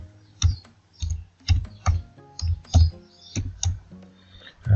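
Computer keyboard keys tapped in a burst of about ten quick, uneven strokes while a password and username are entered on a website login, heard close and clear with no talking.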